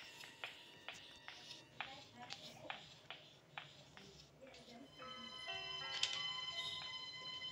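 A bell rings repeatedly inside the Granny horror video game, bright metallic strikes at a steady rhythm, followed by sustained sustained ringing tones, moderately loud over a low background hum.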